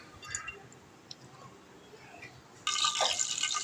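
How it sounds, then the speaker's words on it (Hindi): Half a cup of oil going into a pan for the tadka of a spicy dal chana fry: after quiet kitchen sounds, a sudden loud, steady pour begins near the end. "अब हम इसमें तड़के के लिए डालेंगे 1/2 कप ऑयल।"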